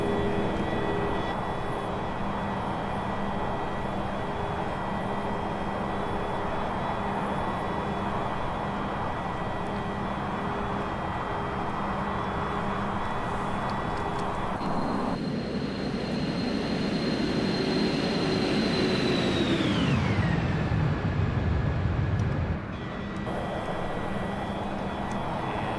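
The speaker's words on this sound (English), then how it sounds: "The X-Ram Embraer planes, they climb very quickly." Embraer E175 jet engines in the X-Plane flight simulator drone steadily through a climb, a continuous whine and roar that shifts pitch partway through, then settles, with no voices.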